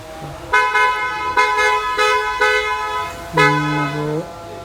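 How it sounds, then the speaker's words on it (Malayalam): A newly fitted HOD-brand car horn sounds loud and close in several short honks, followed by a longer, lower blast near the end. "എച്ച് ഒ ഡി എന്ന് പറഞ്ഞാൽ ഈ ബ്രാൻഡിലുള്ള ഹോണാണ് നമ്മൾ ചെയ്തിട്ടുള്ളത് നല്ല അടിപൊളി ഹോണാണ്"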